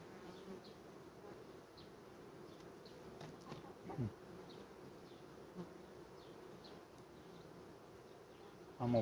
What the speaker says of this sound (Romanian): Am observat o oarecare activitate a viespilor în această perioadă.